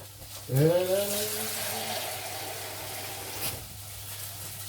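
Hot water pours steadily into a beef and leek pie filling close by, a continuous splashing hiss with a brief high squeak near the start.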